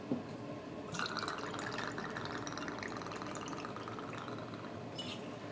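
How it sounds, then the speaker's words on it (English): Rye whiskey pouring steadily into a glass, a continuous trickling splash lasting several seconds in a quiet room. "we're going to add 2 ounces of our Woody Creek Rye Whiskey"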